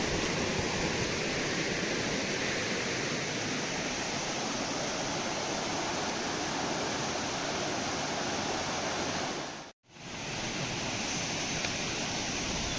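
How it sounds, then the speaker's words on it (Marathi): A village stream rushes loudly past, close by, as a dense, steady roar of water that fills the whole stretch, with one brief dropout near the end and no voices. "आपला जोरात पाण्याचा आवाज"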